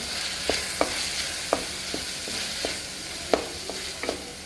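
Ginger garlic paste frying in melted butter in a pan, a steady broadband sizzle with a spoon scraping and tapping through it in irregular clicks, close and moderately loud with no voices.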